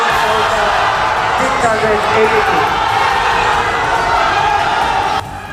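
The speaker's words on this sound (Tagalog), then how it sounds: "Umalingaw-ngaw ang sigawan sa loob ng Sharif Kabunsuan Cultural Center nang ideklara ng COMELEC Cotabato City na yes vote ang nagwagi" A large crowd shouts and cheers inside the Sharif Kabunsuan Cultural Center auditorium in Cotabato City as a vote result is proclaimed. The roar is loud and sustained and continues under an amplified announcer's voice, then drops slightly near the end.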